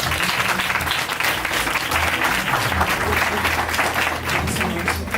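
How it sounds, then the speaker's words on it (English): Loud, sustained audience applause after a spoken word piece, dense steady clapping filling the room for several seconds with crowd noise underneath. "Can we give Nefertiti a big round of applause for what she just set the stage for?"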